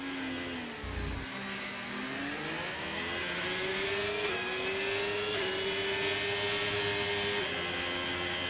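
F1 car engine heard onboard during a lap of Las Vegas in an F1 racing game, a loud steady high-pitched whine that climbs and shifts with gear changes and a brief low thump near the start, no talking.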